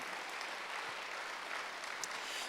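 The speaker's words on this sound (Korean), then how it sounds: "박수 한번 해주세요." A church congregation at a Wednesday worship service claps together in dense, steady applause that fills the room for a couple of seconds.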